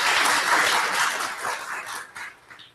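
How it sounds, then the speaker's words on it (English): Audience at a conference session applauding: dense, sustained clapping from a room of people that thins out and fades over a couple of seconds. "So let's give all of these folks a round of applause."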